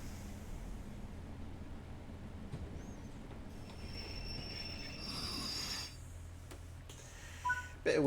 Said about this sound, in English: Bit of wheel slip, but it's fine.